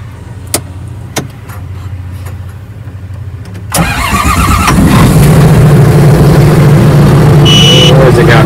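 Power quad range tractor engine cranks after a few faint clicks, catches and settles into a loud, steady idle up close, with a mechanical whine joining near the end and no talk.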